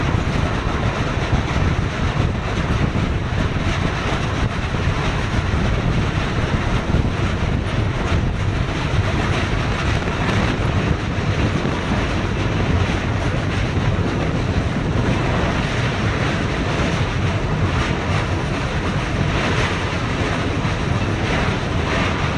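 The 12858 Digha–Howrah Tamralipta Express rolls over the Kolaghat bridge above the Rupnarayan river, a loud, steady roar of wheels and rushing wind from inside the train, constant throughout with no break.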